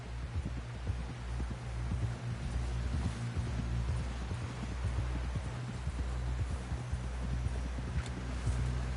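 A horse gallops in Red Dead Redemption 2, its hooves pounding in a quick, steady rhythm close by over a low rumbling hum, with no voices.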